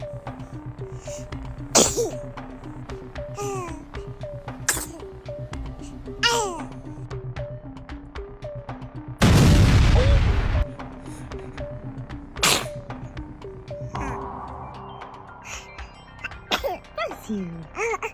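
A baby babbles and gurgles, then lets out one loud, sudden sneeze in the middle, followed by more small coos and squeals; an adult speaks softly between the sounds.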